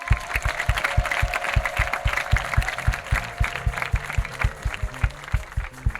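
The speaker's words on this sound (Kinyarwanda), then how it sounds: "Murashaka gukoma amashyi ngaho nimuyakome." A church congregation applauds in a steady, rhythmic clap with a regular low beat underneath, a lively crowd sound throughout.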